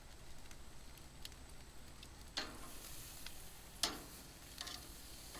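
Memphis-style sausage sizzles softly in a pan, a faint steady hiss broken by a few sharp clicks and scrapes of a utensil checking the links.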